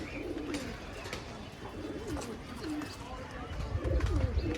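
Pigeons at a bird market coo in low, repeated rolling calls beneath a busy crowd, with someone talking nearby and a rumble swelling near the end.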